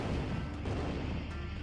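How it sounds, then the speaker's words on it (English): Rogue units fire in the Zero-K strategy game, producing a dense, loud, continuous rumble of artillery-like blasts with no pauses. "Quite easy to dodge rogue shots."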